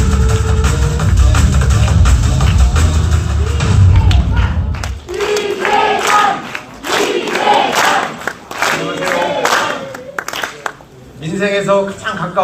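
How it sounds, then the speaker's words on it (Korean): A crowd roars loudly with cheering and a thudding rumble for a provincial administration expert introduced on stage at a Democratic Party rally in Daegu, the din fading after about four seconds into scattered clapping under a voice. "큰 박수와 환호 부탁드리겠습니다"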